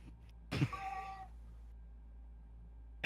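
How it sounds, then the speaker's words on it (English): A cat lets out one drawn-out, wavering yowl nearby over a steady low hum, followed by a brief sharp noise at the end. "That cat is ferocious."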